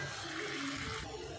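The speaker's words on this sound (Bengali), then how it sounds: "অল্প জল দিয়ে দেব" A little water is poured into a pan of paneer curry, a steady close splashing pour that lasts the whole moment without pause.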